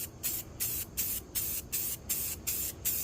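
Rust-Oleum rust encapsulator and converter is sprayed from a can in about eight short, even hissing bursts, each separated by a brief pause. The spray is fairly quiet and close, with no one talking.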